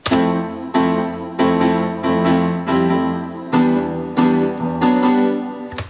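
A bright synth piano plays rhythmic chords over a sustained vocal-like pad, repeating in short pulsing phrases with no talking.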